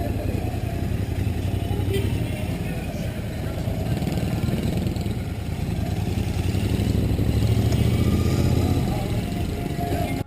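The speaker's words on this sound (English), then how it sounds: "So I'm just gonna make a nice U-turn here" A Royal Enfield Continental GT 650 motorcycle (2020) making a slow U-turn, its engine a steady, close low rumble that holds throughout with slight swells in throttle.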